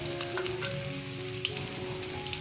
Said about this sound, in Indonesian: Tumis bawang merah, bawang putih, kemudian lengkuas dan daun salam.